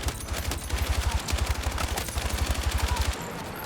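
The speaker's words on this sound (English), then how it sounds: "my LMG feels like an assault rifle with a 100-round mag." Rapid LMG fire in Battlefield 6, a sustained automatic stream of loud, punchy shots in tight rhythm with a brief pause near the start, cutting off just before the end.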